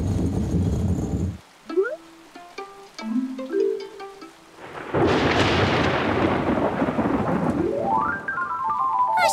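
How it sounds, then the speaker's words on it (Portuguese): Heavy rain pours down in a loud, steady hiss, with a rumble of thunder and some brief tonal sounds in between. "A chuva não quer passar."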